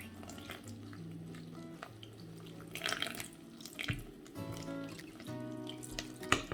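Warm water trickles and splashes into a bowl of flour, yeast and sugar being stirred, a soft, close wet pouring with faint clinks and scrapes, fairly quiet throughout.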